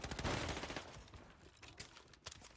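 Gunfire in a squads battle-royale video game crackles in quick, fairly faint bursts that fade, then a few separate single shots follow, all heard without speech.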